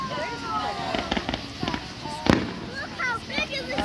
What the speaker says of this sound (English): loved these fireworks